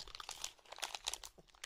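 A dog named Melba crunches and chews an advent calendar treat at close range, a rapid run of crisp crinkly bites with brief pauses, no talking.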